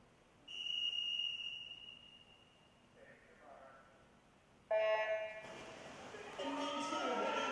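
A starting whistle sounds at a high school girls' swim meet in an echoing indoor pool, a steady shrill tone held about a second, followed by fainter electronic tones and a burst of loud crowd and poolside noise.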